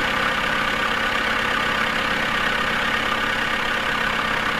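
A tractor engine idles steadily in a woodcutter simulator game, a continuous mechanical drone with no speech over it.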